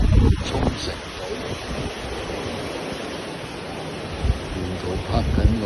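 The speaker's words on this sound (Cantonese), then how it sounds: "成個海都係浪" Open sea with whitecap waves, heard from the deck of a cruise ship on the way to Okinawa: a continuous wash of surf and gusting wind rumbles against the microphone, with swells rising and falling.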